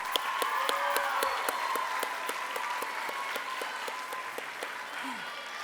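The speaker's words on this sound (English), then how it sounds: "let's give them and their parents a round of applause." Round of applause at a 2019 elementary school fifth-grade graduation ceremony, with sustained crowd clapping in a hall, fairly faint and steady, under a background voice and sustained tones.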